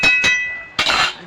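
A metal lid clanks onto a cooking pot during cabbage and fish curry preparation, two quick clinks followed by a louder ringing clatter, close and clear.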